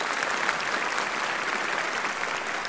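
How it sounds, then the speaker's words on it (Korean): An audience at a live Korean adult-pop concert show applauds in a dense, steady wave of clapping that runs evenly throughout, with no voices rising above it. "어머님들이 이렇게 박수를 많이 주시는 것 같아요"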